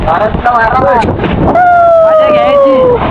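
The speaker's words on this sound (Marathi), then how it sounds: "वारा बेकार आहे वारा बेकार आहे" Strong gusting wind buffets the microphone in heavy low roaring bursts near the Savat Sada waterfall in Chiplun, while people talk loudly over it.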